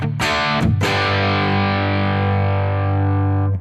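Electric guitar through an overdrive pedal on a Headrush multi-effects unit: a few quick picked notes, then a thick distorted chord left to ring and sustain for several seconds.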